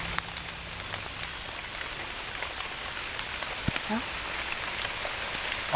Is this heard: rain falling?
yes